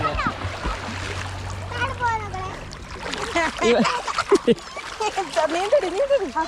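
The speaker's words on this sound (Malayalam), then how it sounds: "ഞാൻ നീന്തുകയാണ്" Water splashes as someone swims in the Pamba river, with irregular sloshing and splatter close by while people talk and call out over it.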